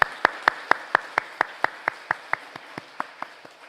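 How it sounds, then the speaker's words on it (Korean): A church congregation claps together in steady unison, about sixteen sharp, evenly spaced claps that grow slightly softer toward the end, with no voices. "우리 박수로 한번 격려하겠습니다"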